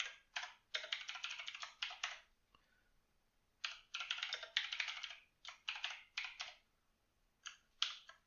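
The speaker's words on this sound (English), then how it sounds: "looking at my fingers while I was typing gets me every time" Typing on a computer keyboard in bursts of rapid, close, clattering keystrokes separated by short pauses, with no talking.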